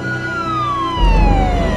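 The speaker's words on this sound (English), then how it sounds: "I'm surprised the police car is driving so slow." Police car siren in a movie scene, a loud wailing tone that slowly sweeps downward over steady traffic noise, joined by a low rumble toward the end.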